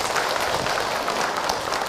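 Audience applause at an Indonesian religious talk, a dense, steady wash of many hands clapping together, moderately loud and unbroken throughout, with no voices rising above it.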